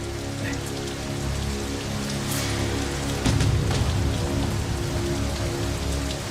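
Rain falling at night on a mountainside, a dense steady patter of drops on surfaces that thickens into a heavier downpour midway, close and continuous with no talk.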